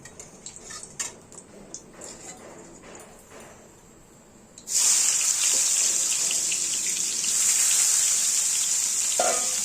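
Chopped onion hits hot oil for tempering with a sudden loud hiss that settles into steady sizzling, after a few quiet clinks and scrapes of a utensil.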